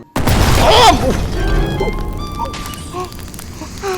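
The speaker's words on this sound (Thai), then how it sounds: "มีแมงมุมระเบิดเต็มไปหมดเลย" Spiders burst apart in the VR game Kill It With Fire, a loud booming blast at the start that settles into crackling debris and scattered electronic pops and tones from the game.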